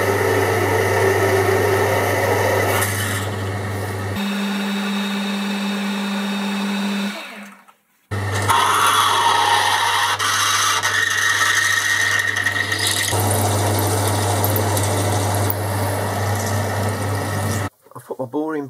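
A pedestal drill bores into a metal spindle in a workshop, giving a loud, steady motor hum with a droning tone. The hum cuts out briefly midway, then runs again and stops abruptly near the end.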